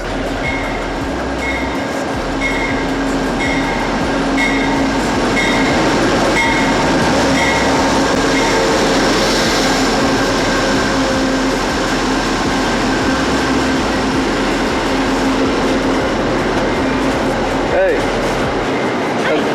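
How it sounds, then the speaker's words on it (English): A metro train rolls into the station, a loud rumble with rhythmic clickety-clack and a steady tonal whine building as it arrives, with people talking nearby. "Here comes my train."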